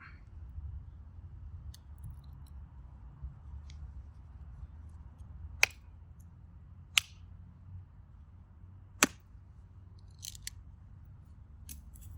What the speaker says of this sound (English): So I'm just gonna cut these out.